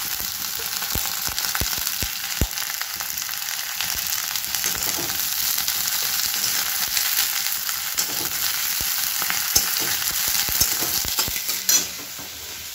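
Cabbage sizzles steadily in a hot frying pan, a dense continuous crackle with a few sharper pops and stirring scrapes, close and alone without talk.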